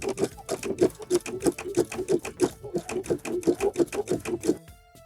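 An embroidery sewing machine fitted with a spring needle stitches in a fast, steady mechanical rhythm, close and continuous, stopping abruptly near the end with a brief whirr.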